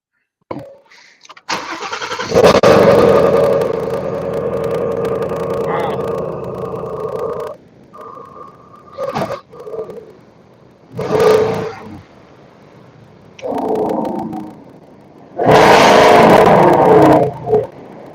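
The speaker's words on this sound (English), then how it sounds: "Everybody be prepared to hear this badass car." A car engine cold-starts after priming, then roars and revs loudly with several bursts and pauses between them, close by, while people talk briefly.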